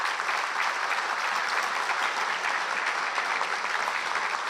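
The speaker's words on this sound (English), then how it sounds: "Please join me in a round of applause for Keith and Greg." A large crowd claps in sustained, even applause, a dense continuous patter with no voices over it.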